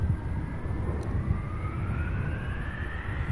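A UPS MD-11 jet airliner at Louisville's SDF airport, its steady broad engine roar sustained and fairly loud throughout with a slowly rising whine, no voices over it.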